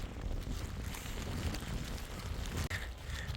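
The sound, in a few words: strong wind on a mountain trek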